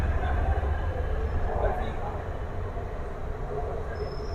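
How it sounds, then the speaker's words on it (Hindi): An Orange Line metro train pulls into a station with a steady low rumble and rolling wheel noise, plus a faint squeal. The sound holds at an even level throughout the clip, with no talk over it. "ट्रेन हमारी आ रही है"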